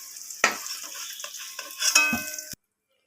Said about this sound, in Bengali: এবার আলুগুলোকে আমি লালচে লালচে করে ভেজে নেব